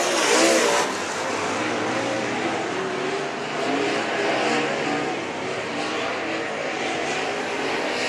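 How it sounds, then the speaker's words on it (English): Modified stock cars race on the oval at Mt. Pleasant, their engines roaring loudly in a continuous drone as the pack passes side by side down the back straightaway, with no clear talking over it. "Jacob Poole and Brad Wilson go door to door down the back straightaway"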